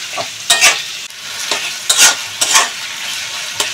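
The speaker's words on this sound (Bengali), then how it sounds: "আমি একসাথে পেঁয়াজগুলোর সাথেই ভাজবো।" Sliced onions and prawns sizzle in hot oil in a pan while being stirred, with repeated scraping and clattering strokes over a low, steady frying hiss. No talking is heard.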